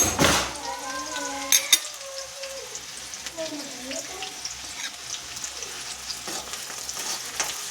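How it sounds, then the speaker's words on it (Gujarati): Onion sautéing in a pan on a home stove, a steady soft sizzle with a few clinks of a utensil against the pan near the start, and faint background sounds underneath. "ડુંગળીને સાંતળવા દઈએ."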